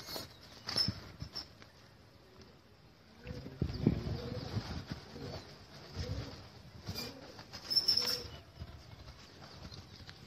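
Pigeons being kept for training coo in low, soft, repeated murmurs close by, with irregular bursts scattered across a quiet background and a few brief higher chirps.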